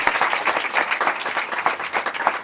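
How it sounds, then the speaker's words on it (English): An audience at a Gayatri yagna gathering in South Africa claps to welcome a guest, a fairly loud, steady patter of many hands with slight rhythmic pulsing throughout. "We can clap."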